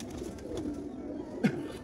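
Black-faced Sheikhon wale Sialkoti pigeons from the border region murmur in a continuous low coo, with one short louder burst near the end standing out from the soft drone.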